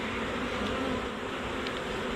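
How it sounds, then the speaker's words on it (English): A swarm of honey bees being caught and brushed into a box, a dense steady buzz that stays close and constant throughout, with no talking. "we got a lot of bees in this swarm"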